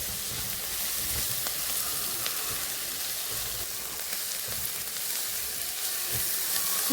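Vegetables sauté with chili powder in a pan for a Kerala thoran, giving a soft, even sizzle with faint crackles, steady and fairly quiet throughout.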